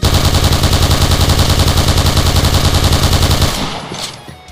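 L86 LSW light machine gun in the Point Blank game firing one long sustained burst of rapid, evenly spaced shots, loud and close, then stopping with a short fading echo.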